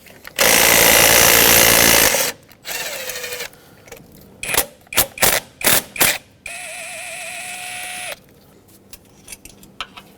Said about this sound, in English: there are two 8mm headed bolts holding this fuel rail onto the intake manifold. Let's remove both